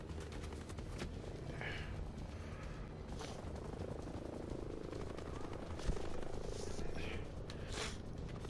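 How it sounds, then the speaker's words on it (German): A helicopter in Ghost Recon Breakpoint drones with a low, steady rotor rumble across the whole stretch, with faint game effects and a brief thump mixed in. "Der ist kaum zu treffen, der Heli."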